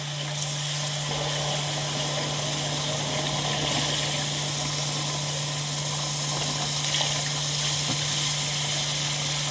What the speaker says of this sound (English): So we got to start pouring our liquid in there. We're going to start with our beef stock.